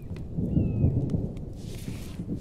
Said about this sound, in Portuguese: Eita, trovão! Caramba! Chuva de verão, hein?